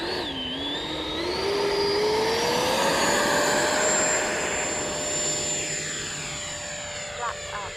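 A nitro X-Fly Alpha RC airplane's engine rises steeply in pitch and holds a loud, steady whine as it takes off, with a faint voice briefly heard beneath it.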